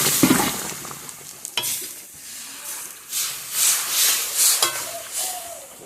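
Dal hitting a pan of onions, garlic and dried red chillies already fried until reddish, giving an intermittent sizzling hiss with stirring scrapes that swell and fade in waves.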